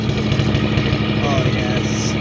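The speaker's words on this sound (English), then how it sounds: "High idle. For sure, because it's on the choke." A Chevrolet C10 truck engine runs at a fast, high idle on choke, a steady loud rumble with some exhaust leak roughness, and a voice talks over it.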